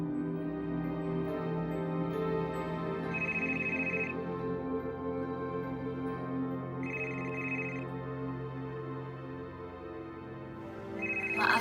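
A telephone ringtone plays in a tonal, repeating melodic pattern, with a brighter high chime recurring every few seconds, moderately loud and alone throughout.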